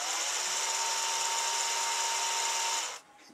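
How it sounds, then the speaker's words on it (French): An electric drill spins a homemade woodworking tool built with bearings on each side, giving a steady high-pitched motor whine that runs evenly for almost three seconds before abruptly winding down and stopping. "Avec la perceuse, donc, qui va actionner le tout."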